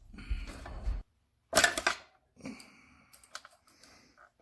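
Rear wheel nut on a Honda CB750 cafe racer being cracked loose with a wrench: a close burst of sharp metallic clicks and a snap, then a pause and a few lighter taps and rattles.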